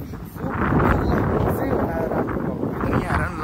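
Snowstorm wind gusting and buffeting hard against the microphone outdoors, a loud rushing roar that swells and eases with a voice talking.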